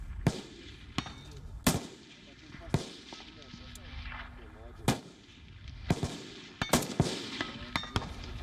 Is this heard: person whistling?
no